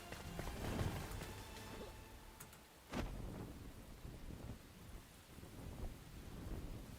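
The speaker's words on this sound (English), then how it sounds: "It's raining." Rain and thunder in the Enshrouded video game: a steady wash of rainfall with a sharp thunder crack near the three-second mark, followed by continued rain and low rumbling.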